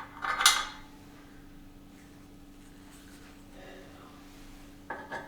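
Steel bushings and an M10 bolt clink and scrape as they are fitted onto a Body Solid cable crossover home gym machine: a bright metallic clatter at the start, a quiet stretch, then another short knock near the end.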